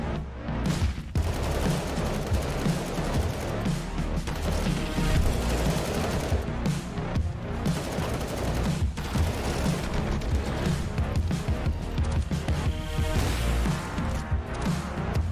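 Sustained gunfire spray during a competitive video game match, a dense, loud, continuous barrage of rapid shots and impacts filling the whole stretch without pause.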